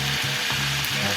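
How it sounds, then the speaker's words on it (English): Meat sears in a hot pan, a loud continuous sizzle with a low pulsing hum beneath it, heard up close. "Now all that's going to be is a sear, so literally like a few seconds on one side, few seconds on the other"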